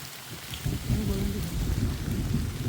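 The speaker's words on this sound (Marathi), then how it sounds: "पाऊस पडायला लागलाय, पाऊस." Rain falls steadily on an April afternoon at a farm plot in Konkan, with a low rumble of thunder underneath; the downpour is continuous and fairly loud throughout.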